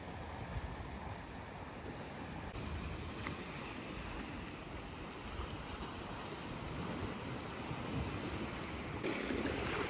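Choppy sea water along a Turkish shoreline, waves churning and washing in a continuous rushing roar, with gusty wind buffeting the microphone throughout and no voices.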